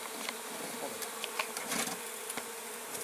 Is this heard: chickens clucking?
no